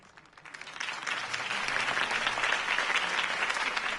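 A crowd applauds a campaign speech for Harvey Dent, the clapping swelling quickly from a thin start into a dense, steady roar of many hands with faint voices mixed in.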